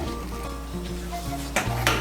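Butter chicken masala paste with strained tomato sizzling and frying in a pan, a steady close crackle with a couple of brief stirring scrapes near the end, no talking.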